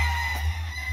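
A big rooster crows at a cockfighting gallery, one brief sustained call held steadily and close over a low background hum.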